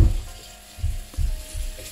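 Bay leaves, lime leaves, galangal, shallots and lemongrass sautéing in a pan for Betawi semur, a soft intermittent sizzle with low stirring bumps coming in short bursts.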